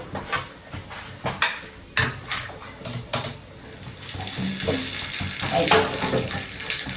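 Cooked dal being stirred in a pot, with a spoon clinking and scraping against the metal in repeated clattering strokes, close and moderately loud, with some watery sloshing.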